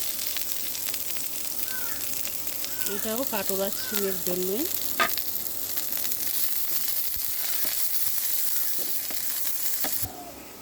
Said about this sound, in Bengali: এখন দিয়ে দিচ্ছি পেঁয়াজ ভাজার জন্য